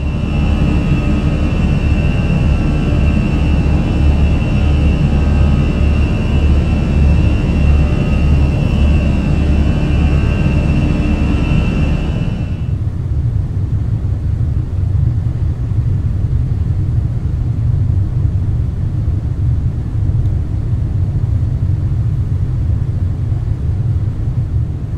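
Airbus A320 jet engines in a flight simulator drone steadily after takeoff, a loud whine over deep rumble that drops to a lower, smoother roar midway as thrust is reduced.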